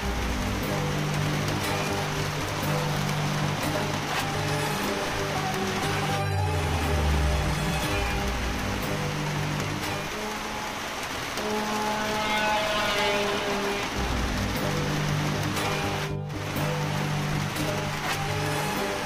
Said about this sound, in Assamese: অসমৰ বিভিন্ন জিলাত পৰিছে মুষলধাৰ বৰষুণৰ প্ৰকোপ।